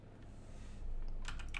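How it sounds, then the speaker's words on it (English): Keys clatter on a computer keyboard as a command is typed on a PC, a quiet steady hush at first, then a quick cluster of crisp keystrokes near the end. "next step is to type in the following command,"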